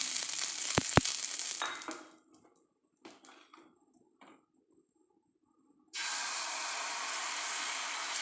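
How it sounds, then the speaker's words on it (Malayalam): Dosa batter hits a hot pan with a soft sizzle after a couple of sharp knocks, falls nearly silent for a few seconds, then a loud steady hiss of sizzling returns. "ദോശ ഒഴിച്ച് കൊടുക്കാം."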